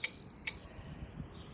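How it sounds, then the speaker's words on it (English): A handlebar bicycle bell gives two bright, sharp rings about half a second apart, close and loud, each leaving a lingering metallic tone that fades against a quiet background. "I also have a bell"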